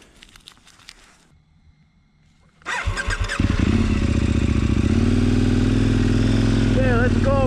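Motorcycle engine starts after quiet handling noise and settles into a loud, steady close-up rumble while setting off on a trail, briefly revving near the end.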